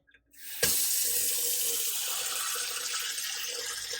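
New kitchen faucet with a pull-out sprayer switched on over a sink, a sudden hissing spray of water that starts after a soft click and continues steadily, close and even.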